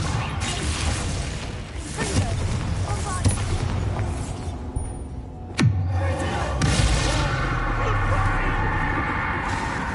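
In Hogwarts Legacy, the Expulso spell bursts with a sharp crack and booming blast amid ongoing combat crashes and whooshes, loud and close, with a voice talking over the action.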